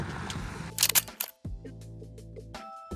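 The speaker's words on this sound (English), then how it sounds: "That click of the shutter on my camera" A camera shutter fires outdoors on a motorcycle trip through northern Thailand, a crisp mechanical click-clack burst followed by a quieter second click, set against soft ambient music.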